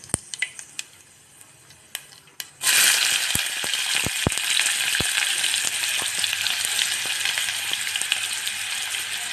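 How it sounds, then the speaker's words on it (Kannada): Onions frying with curry leaves in a pan give off a loud, steady sizzle that starts suddenly when they go in, after a few light clicks and taps, with occasional stirring ticks. "ಈರುಳ್ಳಿ ಸ್ವಲ್ಪ ಚೆನ್ನಾಗಿ ಫ್ರೈ ಆಗ್ಬೇಕು ಇವು."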